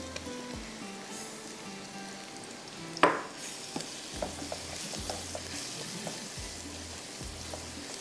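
Onions fry and crackle steadily in a hot pan while a utensil scrapes and stirs through them, with one sharp clack against the pan and repeated low knocks throughout.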